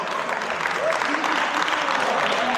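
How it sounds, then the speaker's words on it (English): Applause from the audience at a tournament prize distribution, a steady dense patter of many hands filling the whole moment, with faint voices mixed in. "A round of applause for everyone, please"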